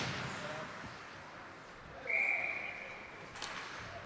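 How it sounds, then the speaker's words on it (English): A referee's whistle blown for icing at a varsity ice hockey game, one sharp steady blast of about half a second over crowd and arena murmur, with a commentator's voice in the background. "So the whistle is called for icing."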